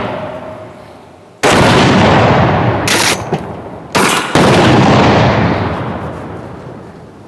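Acetylene barrels set off by 12 gauge shotgun blasts erupt in very loud explosions. Three sharp, massive bangs each roll out into a long, fading boom, with no talk.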